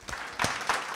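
Congregation clapping hands in praise at a church worship service, a short burst of loud, close claps in several bunched waves.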